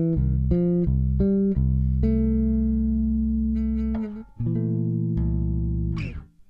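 Solo bass guitar running up a Mixolydian scale, single sustained notes ringing out one after another, clean and close, ending with a soft string squeak.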